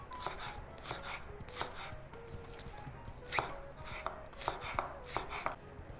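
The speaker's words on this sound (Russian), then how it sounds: "Лук зеленый нужно нарезать." Sharp knife chops on a cutting board as green onions are sliced, a steady series of crisp taps with brief pauses between runs, close and clear.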